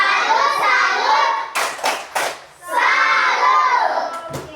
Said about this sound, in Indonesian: Kita berikan tepuk salut dulu.